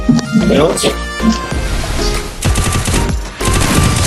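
Rapid bursts of gunfire ring out during a 1-versus-2 round of a shooter video game ending in two headshots, loud and dense, with someone talking excitedly over the shots.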